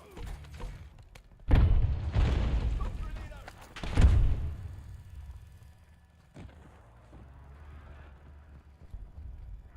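A grenade blast in Call of Duty Warzone: two heavy, booming explosions a couple of seconds apart, each followed by a rumbling decay, then quieter thuds and radio-style voice callouts.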